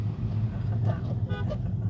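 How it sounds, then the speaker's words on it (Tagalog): Busy road traffic in Riyadh rumbles steadily nearby, with a short car horn toot breaking through near the end, while someone talks over it. "Ganito lagi ngayon dito sa Riyadh. Puro traffic na"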